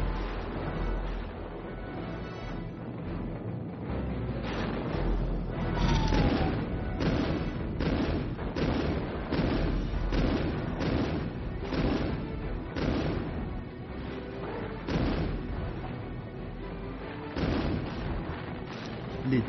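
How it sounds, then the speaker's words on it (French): Cannons fire in intense, repeated volleys from a fort at British gunboats. Dozens of booming shots come in a fast, irregular rhythm under a French-speaking narrator's voice. "l'armée des Qin, dissimulée, a surgi sur le fort et ont commencé à tirer au canon avec intensité sur les canonnières britanniques"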